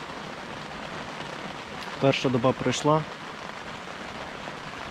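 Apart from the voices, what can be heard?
heavy rain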